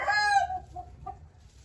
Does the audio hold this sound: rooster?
yes